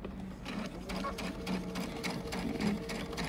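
A sewing machine stitches a tiny stuffed elephant toy, its needle chattering in quick, steady bursts close by for a few seconds, with no talking.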